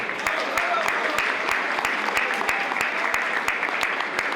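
Scattered applause at an award ceremony, a thin, uneven patter of hands that keeps steady at moderate volume and never swells into a full ovation.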